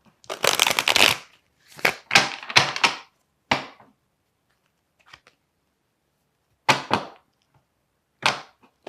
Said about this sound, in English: But I want to pull another card here.